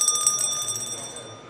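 Bell notification sound effect: a bright metallic ringing chime with rapid strikes that sustains and slowly fades over about a second and a half.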